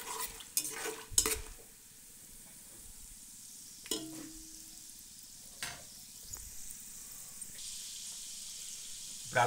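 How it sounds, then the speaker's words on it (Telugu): Whole spices for tempering frying in hot oil in a pan for wheat rava upma, giving a steady low sizzle with several sharp pops and crackles scattered through it, close and fairly quiet. "ఈ పోపుని బాగా దోరగా వేపుకోవాలండి."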